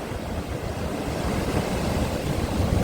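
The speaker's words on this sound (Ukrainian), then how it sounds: "Клас, оце хвилі!" Stormy sea waves break on the shore in Odesa, a loud continuous roar of surf mixed with wind buffeting the microphone.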